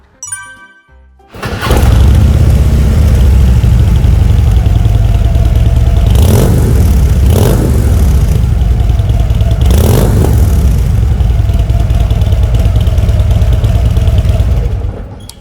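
A Harley-Davidson Street Glide 103 motorcycle's 1690cc engine cranks and fires up, then settles into a loud, steady rumbling idle with a couple of brief throttle blips, close by.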